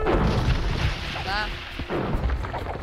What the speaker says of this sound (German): Das läuft super mit den Kanonentürchen.